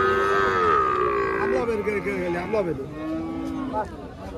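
Cattle at a busy livestock market moo in several long, loud, nearby calls, one after another, with faint crowd noise behind.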